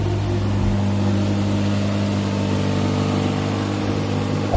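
An old Honda car engine idling loudly and steadily close by, a constant rough low hum with a slight rise at the very end and no talk.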